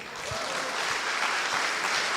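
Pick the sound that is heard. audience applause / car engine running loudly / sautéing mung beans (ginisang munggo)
audience applause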